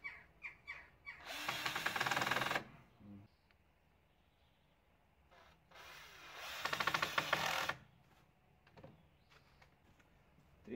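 A power drill drives screws into a wooden shelf board in a garage, two distinct whirring bursts of about one and a half seconds each separated by quiet handling clicks and knocks, fairly close.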